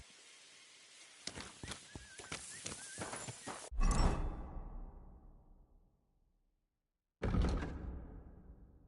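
A horse in a stable in the video game Kingdom Come Deliverance 2 shuffles and stamps, then gives a loud whinnying snort, followed by a pause and another sudden burst of movement, close and fairly loud.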